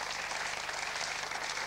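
Studio audience applauding on a Turkish television talk show, steady dense clapping at moderate distance throughout, fairly quiet and even.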